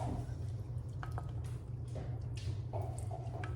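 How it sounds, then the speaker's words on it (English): Hot cream is poured from a pan over chocolate chips in a bowl, giving soft wet drips and splashes over a low kitchen hum, fairly quiet and close. "We're gonna pour it over the chocolate chips."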